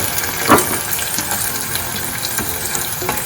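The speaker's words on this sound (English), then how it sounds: "Remember the onion that I left behind. I slice it up. I'm going to stir it in." Sliced onion stirred into a pot of frying bean porridge, giving a steady, close sizzle with a brief clink early on and soft stirring scrapes.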